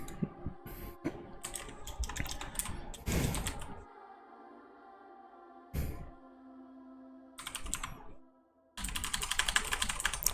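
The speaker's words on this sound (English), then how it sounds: "I sometimes love it when my keyboard does not react properly" Quick bursts of clicking keystrokes on a computer keyboard, close and crisp, come in uneven runs with pauses, over faint steady background music.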